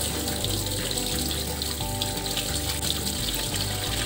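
Tap water runs steadily into a sink, a constant close splashing gush as chopped capsicum is rinsed under the stream, with no talking.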